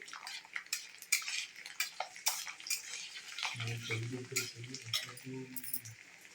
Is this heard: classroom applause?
no